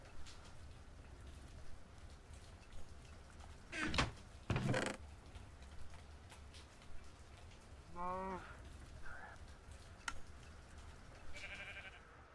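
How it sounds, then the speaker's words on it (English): Soft, steady rain falls throughout a Minecraft game, faint and constant, with a few sharp clicks and a couple of short animal bleats over it. "Okay, it's still raining."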